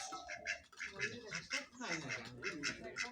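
Ducks quack repeatedly at close range, a steady run of nasal calls with voices talking softly underneath.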